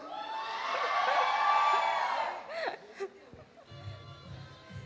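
Audience at a college alumni and technical association fest cheering loudly, a dense crowd roar with whoops that swells and then breaks into scattered shouts and quieter crowd noise.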